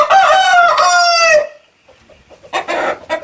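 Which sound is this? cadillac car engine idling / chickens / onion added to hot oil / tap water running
chickens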